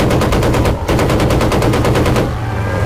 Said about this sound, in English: I was shooting the parachuter.